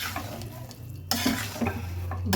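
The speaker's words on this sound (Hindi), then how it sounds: "तो आप ऐसे कंटिन्यूसली से चलाइए" Flour and dried fruits being stirred continuously in hot ghee in a pan, a steady close sizzle with scraping spoon strokes, a sharper burst of frying about midway, no voices.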